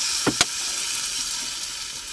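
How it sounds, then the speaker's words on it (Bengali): Potatoes fry in a pan with a steady, bright sizzle, and two quick splashy bursts come near the start as water is poured in, after which the hissing goes on evenly and close. "এবার একটু জল দিয়ে দিচ্ছি"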